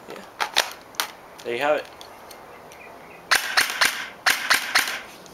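An airsoft electric gun fitted with an upgraded build fires sharp two-round bursts, several paired cracks close by, with a person speaking briefly between the volleys.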